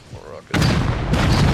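Rocket explosions in Rust Console Edition strike a heli tower: two heavy, loud blasts land close together, the first hitting hard after a quiet moment and the second following about half a second later, with talk mixed in.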